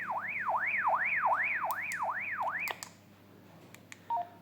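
A Baofeng UV-5RH handheld radio in alarm mode gives off a loud, steady rising-and-falling electronic siren wail, repeating about every half second for nearly three seconds before it cuts off and leaves a quiet room with a few small clicks.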